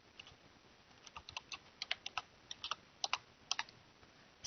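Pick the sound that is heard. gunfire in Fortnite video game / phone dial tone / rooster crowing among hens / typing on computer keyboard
typing on computer keyboard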